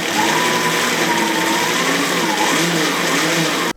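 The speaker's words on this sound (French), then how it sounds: "Allez, petit essai à vide de la mob" An electric motor fitted to a converted mobylette moped runs unloaded on a test battery, giving a loud, continuous close-up whine whose pitch wavers and shifts throughout.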